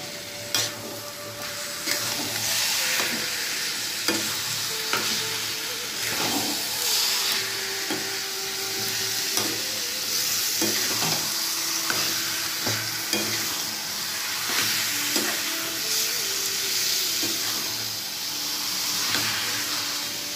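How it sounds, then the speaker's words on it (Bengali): A coconut mixture sizzles and hisses steadily in a pan on a gas stove, with repeated stirring scrapes and knocks, close and continuous throughout. "নারকেলের ছায়ের কড়াটা বসিয়ে দিয়েছি গ্যাসের মধ্যে।"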